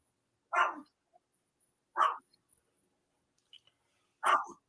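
Dogs bark three times, each a short, sharp woof spaced a couple of seconds apart, fairly close with quiet gaps between them.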